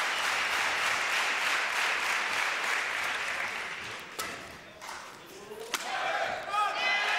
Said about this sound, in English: There were a few shouts from the crowd, a bit premature.